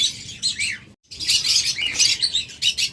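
Pet budgerigars, a double factor pair among breeding pairs offered for sale, chirp and twitter steadily in bright, busy bursts with a brief pause in the middle, with no voices over them.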